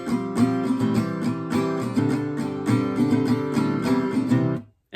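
An acoustic guitar plays a steady rhythmic chord progression from the refrain of a song, close and bright with crisp accented strokes, and cuts off cleanly at the end.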